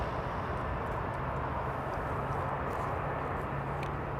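A Delta Airbus A330-200 going around on runway 27R gives a steady, broad jet roar at a moderate distance, holding fairly constant with no clear talk over it.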